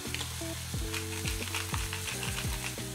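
Beef burger patties fry in a pan with a steady, dense sizzle, while a spatula or utensil clinks and scrapes against the pan in a repeated rhythm, accompanied by a sustained tonal hum throughout.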